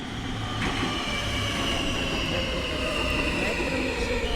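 A metro train on a new line in Warsaw runs with a steady loud rumble, wheels squealing faintly and a continuous mechanical drone throughout.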